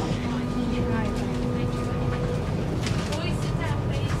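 Virgin train running steadily as it approaches Birmingham International station, a continuous rumbling hum heard from inside the carriage, with faint tonal whines and brief background voices.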